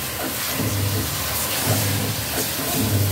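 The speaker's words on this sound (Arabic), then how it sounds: "انا مشغله الغساله فايه صوتها باين معايا في الفيديو" A washing machine runs in the background of a home kitchen, giving a steady hissing whoosh with a low hum that swells at regular intervals, moderately loud and alone.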